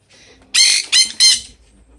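A pet bird squawks loudly three times in quick succession, each harsh call lasting a moment, during another bird's bath in a tropical Florida home. Faint background noise surrounds the calls, and no one speaks.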